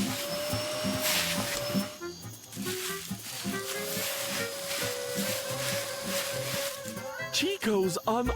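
A cartoon vacuum cleaner hiding in grass gives off a long, steady whirring drone with hissy air noise, running continuously under a voice talking and fading out amid squeaky effects at the end.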